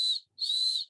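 Two high, thin whistles, a short one then a longer one, made by a voice imitating a bird-like whistle for the Arabic letter sad in Quran recitation, close and clear.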